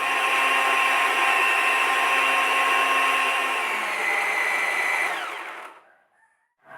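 Food chopper grinding fried garlic and ground pepper, a loud steady motor whir running continuously for about five seconds, then winding down and stopping into near silence.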